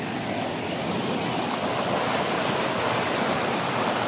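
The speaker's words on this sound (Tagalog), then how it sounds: "Sobrang lakas ng tubig" Strong, rushing water roars loud and steady throughout, close by and without a break, with no talking over it.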